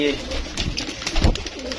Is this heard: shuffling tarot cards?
no